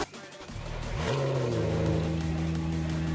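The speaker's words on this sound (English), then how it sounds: "Now let me rev it up." A track car engine in the Vehicle Legends video game revs up from idle, rising quickly to a loud, sustained high-pitched whine that holds steady, close and alone.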